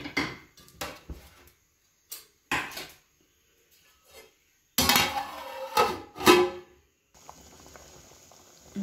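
A lid clanks onto a metal cooking pot of beef, several sharp knocks and clatters with quiet pauses, then a soft steady hiss of the pot heating.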